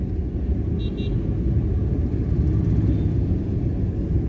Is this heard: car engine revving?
yes